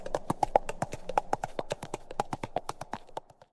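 Crisp, rhythmic clip-clop of horse hooves, close and steady, a quick even beat that slows and fades at the end.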